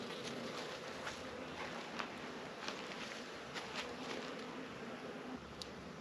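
Honeybees buzz softly around an open hive during an inspection, a faint, steady drone with light rustling of frames and occasional small taps close by.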